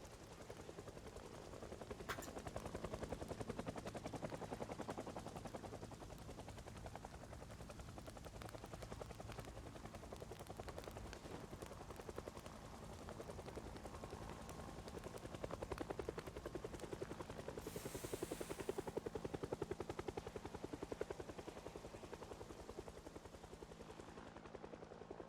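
Helicopter in a video game droning continuously as it flies overhead, a steady rotor chop under a dense engine hum at moderate distance, with faint sharp pops mixed in and no talk.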